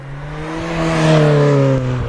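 A Lotus Elise Sport 160 idles unevenly, its engine hunting around 2,000 rpm with a steady harmonic drone that swells slightly and settles, heard close and alone.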